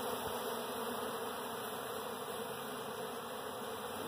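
A large, several-years-old honeybee colony exposed in a felled park tree, a steady dense buzzing hum close by with no pauses.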